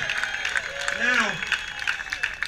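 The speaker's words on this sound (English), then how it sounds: "Round of applause for Richard Petty, who's our special host." A crowd at a Nathan's Famous hot dog eating contest in Dover claps for Richard Petty, a brief burst of applause heard under a voice on the announcer's microphone.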